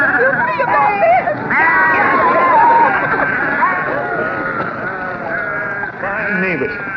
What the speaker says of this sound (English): I see you chasing the sheep away